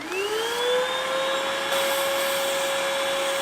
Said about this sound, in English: I've taken just a ballpoint pen shaft and made a little adapter on my shop vac here